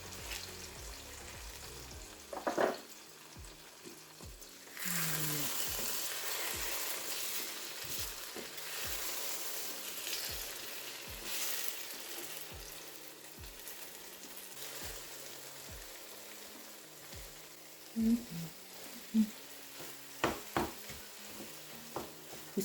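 Egg stew with plenty of oil sizzling in a pot while being stirred, a soft continuous fry with repeated scraping strokes, louder after a few seconds and ending in a few sharper knocks; no voices.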